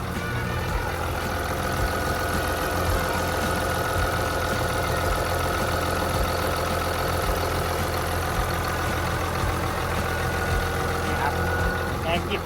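The diesel engine of a Komatsu WA380-6 wheel loader runs at a steady, fairly quiet idle, with an even hum and mild knocking throughout and talk heard over it.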